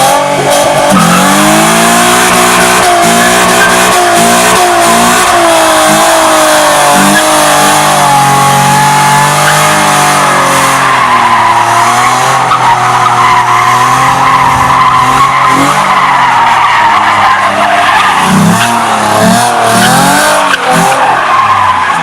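A 3.7 V6 Ford Mustang drifting: a loud, continuous engine roar that rises and falls with repeated revving, mixed with long tire squeals and skidding throughout, with no talk over it.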